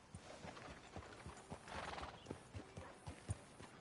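Steady clip-clop of horse hooves trotting at an even rhythm in a video game, fairly quiet, with a brief horse whinny partway through.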